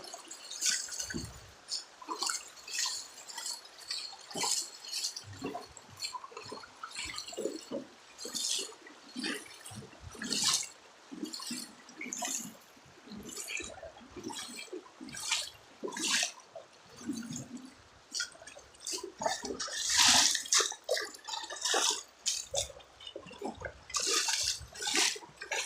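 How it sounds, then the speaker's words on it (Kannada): Water surges forcefully through a sixty-foot-deep underground tunnel, a loud churning rush broken by irregular splashes and drips that echo nearby, continuing without pause and with no speech. "ಸಖತ್ ಫೋರ್ಸ್ ಎಳೀತೆ ನೀರು."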